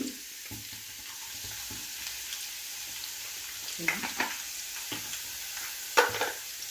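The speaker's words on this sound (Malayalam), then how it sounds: "നമ്മുടെ വെളുത്തുള്ളിയും പച്ചമുളകൊക്കെ ഒന്ന് വഴന്ന് വന്നിട്ടുണ്ട്." Garlic and green chillies sautéing in a pan give a steady, moderate sizzle, broken by a few light scrapes and clinks of stirring near the end.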